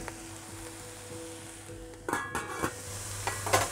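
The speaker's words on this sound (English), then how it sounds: "the eggplant has been sauteing for a few minutes and it's become nice and soft" Eggplant sautés in a pan with a soft, low sizzle, then a burst of louder stirring and scraping clatter in the second half, close by and without speech.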